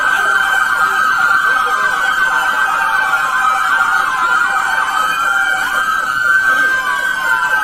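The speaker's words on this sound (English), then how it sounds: "Everybody, turn your sirens off." Several Houston police vehicle sirens wail together loudly and steadily, rising and falling over constant road noise for the whole stretch.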